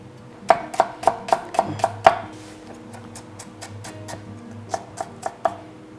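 A knife chops celery on a cutting board for a hamburger sandwich, a quick run of about seven sharp, close taps followed by slower scattered chops.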